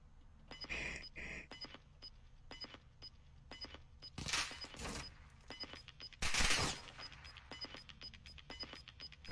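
Gunfire in a battle royale video game on Ashika Island, with a few short bursts of shots, two louder volleys standing out over low game ambience.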